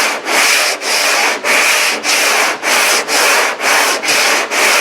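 Body filler on the roof of a junkyard Cadillac is worked with a long sanding board, making loud, steady back-and-forth rasping strokes, about nine even passes with short breaks between, close up and with no voices.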